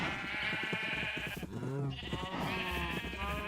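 Sheep in the Minecraft video game bleat repeatedly in a dense, wavering chorus, several overlapping calls filling the space with no pauses between them.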